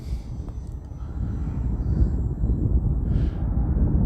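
An E-flite T-28 radio-controlled model airplane flies overhead on a windy, snowy-season day, its steady electric motor whine holding at moderate distance over broad wind rumble, with a brief higher-pitched swell as it passes near the end.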